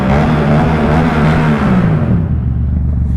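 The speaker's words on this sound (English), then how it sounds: "I love the sound of this motorcycle" A Yamaha MT-07 motorcycle engine revs loudly under a bridge, a close, deep rumble with a rising then falling pitch. It fades quickly toward the end as the throttle drops.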